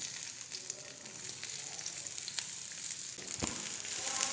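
Onions sizzle steadily in ghee in a wok, a close, continuous crackling fry with occasional sharper pops and no talking.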